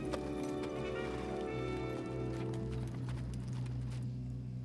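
Steady clip-clop of horse hooves walking under a constant low rumble and hum, with no voices.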